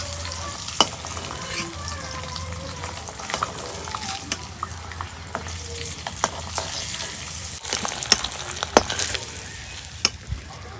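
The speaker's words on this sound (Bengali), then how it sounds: "ডিম ভাজা হয়েছে, এই দেখো কি সুন্দর করি নাল নাল করে ভাজছি" Eggs fry in a pan in a village kitchen, a soft, steady sizzle broken by scattered sharp pops and crackles.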